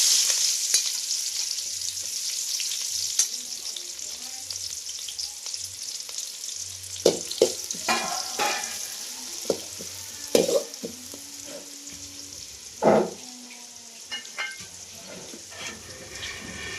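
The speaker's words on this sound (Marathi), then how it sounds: "कांदा चांगला लाल होईपर्यंत परतून घ्यायचो" Two lengthwise-sliced onions fry in hot oil for a Malvani chicken curry, a steady close sizzle running throughout and scraped by a spoon in irregular bursts that grow busier partway through, with no one speaking.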